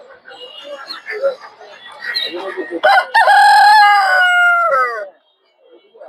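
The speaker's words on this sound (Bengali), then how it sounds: "অনেক বড় বড় কিছু মোরগ।" A large rooster crows loudly and close at a busy poultry market, one long drawn-out crow rising over a murmur of market noise and faint clucking, then a brief pause.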